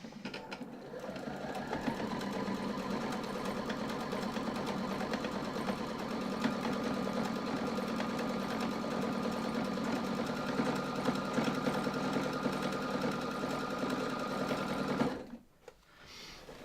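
Sewing machine running continuously to tack down loose threads on a bag being rehabbed, a steady close whir that rises to speed and holds for about fifteen seconds before stopping abruptly.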